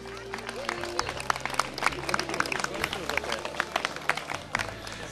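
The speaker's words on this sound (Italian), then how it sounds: "Un applauso a Marco." An audience at an evening charity gathering in Rezzago claps for Marco, a fairly faint patter of scattered hands with a low hum and murmuring beneath.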